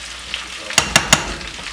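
Pasta drops into a pan of melted vegan cheese for rasta pasta, giving three quick, close, sharp sizzling bursts over a low background frying crackle.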